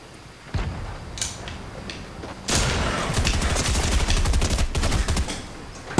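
Gunfire in the video game Fortnite: a few scattered shots early on, then a long, loud rapid burst of repeated shots close by.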